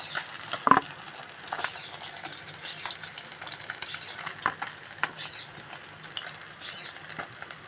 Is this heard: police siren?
no